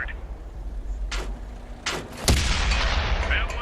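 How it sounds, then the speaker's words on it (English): A Chi-Nu tank's gun fires in World of Tanks, one sharp loud blast with a rumbling tail, followed by softer mechanical clunks. "Don't want to stop firing. The key with these low alpha guns is just to keep firing."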